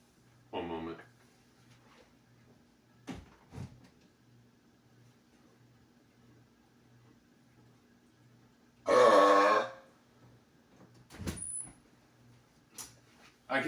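Two burps from someone inside a closed closet in a room, the first short, the second longer and louder, separated by quiet stretches with faint knocks and rustles.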